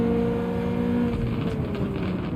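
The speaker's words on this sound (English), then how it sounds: "That Peugeot makes a very nice sound there" Peugeot race car engine in Gran Turismo 7 holds a steady, droning tone that shifts pitch slightly as it revs, loud and continuous with no voices.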